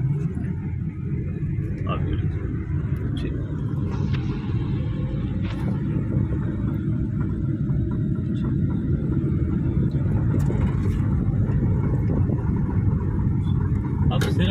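An automatic city car pulls away from a stop, heard from inside the cabin as a steady low engine and road rumble that stays even and fills the background throughout.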